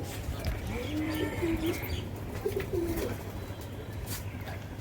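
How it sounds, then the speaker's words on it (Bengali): Soft, low pigeon coos repeat several times over a quiet background, with faint chirps and distant voices. "এটা মেল এটা মেল দেখ পায়রাটা"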